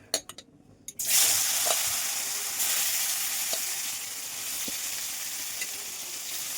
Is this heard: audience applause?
no